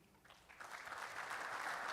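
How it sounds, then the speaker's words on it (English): Applause from a coaches forum audience builds over two seconds, rising from a faint patter to a steady, moderately loud wash of clapping. "Buzz, you don't have to hold your applause."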